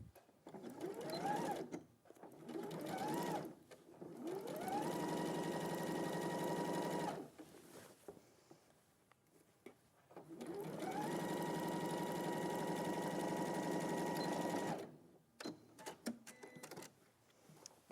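A sewing machine stitching a seam in two long runs, each starting with a few quick bursts, then holding a steady, close whirring hum before stopping, with quiet pauses between.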